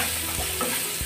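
Spices and chicken masala sizzle and fry in a pan for a chana dal tadka, a steady close hiss broken by a couple of soft stirring scrapes over about a second.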